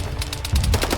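Mechs firing weapons in the Arma 3 video game, a rapid, rhythmic string of loud gunfire bursts, about ten sharp shots in quick succession with a heavy low thump midway.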